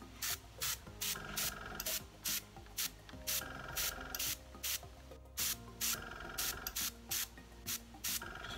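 A Badger airbrush sprays Unicorn Spit paint at turned-down compressor pressure in a rapid series of short hissing bursts with brief pauses, close and steady, with no talking.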